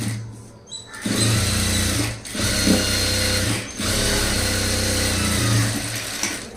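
Stitching a blouse seam, a sewing machine whirs in loud bursts of a second or two, stopping briefly between runs, close up with a steady motor hum.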